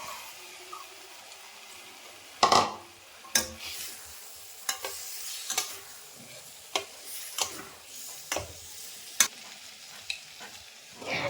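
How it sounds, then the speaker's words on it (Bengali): Pre-fried potato and pointed gourd pieces are stirred into masala frying in oil, with a soft background sizzle and sharp, irregular spatula scrapes and clinks against the pan. "মশলাটি থেকে তেল ছেড়ে আসলেই এর মধ্যে আগে থেকে ভেজে রাখা আলু আর পটলটা"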